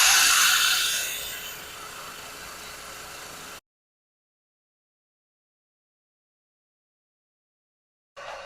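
Sandpaper held against a pool cue spinning on a cue lathe, a steady broadband hiss that fades slightly before cutting out, then resuming briefly at the end.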